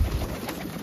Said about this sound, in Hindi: बहुत बड़ा हरा दुबाज कबूतर है